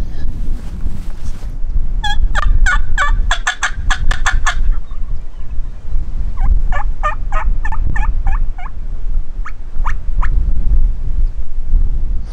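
A wild turkey gobbles repeatedly in windy Nebraska country, sending out several rapid, rattling bursts, some loud and some fainter, over a constant low rumble of wind.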